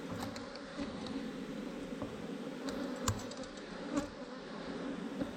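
Honey bees buzz steadily during a hive inspection, a dense, close drone with swelling individual buzzes and a few small clicks and taps of hive handling on top, no voices.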